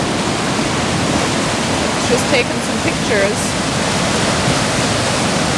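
Raging river rushing loudly, a dense continuous roar of water close by, with a person speaking briefly over it.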